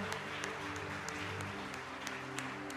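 Church congregation applauding during a worship service: dense, steady clapping sustained throughout, fairly soft and even, with a sustained musical tone underneath.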